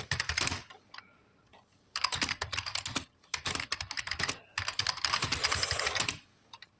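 Bursts of rapid computer keyboard typing while code is entered into Notepad, close and crisp, coming in several runs separated by short pauses, with no talking.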